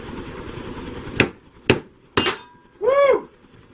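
Metal parts with ground-down welds are split apart: three sharp, ringing metallic knocks in quick succession, then a short resonant clang that rings out, close and loud.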